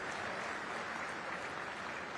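An audience at an industrial summit speech claps steadily, a dense even patter of applause from a crowd that holds for a couple of seconds.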